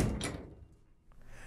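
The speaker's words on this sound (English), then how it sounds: "Now, I can close the door and run my machine on its deliming cycle." A commercial dish machine door swings shut with a solid thunk at the start, then a softer settling clunk follows in a quiet room.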